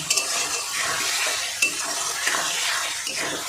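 Spice paste (masala) for a pangas fish curry fries in hot oil with a steady sizzle, while a spoon stirs and scrapes the pan in short bursts, up close and without talk.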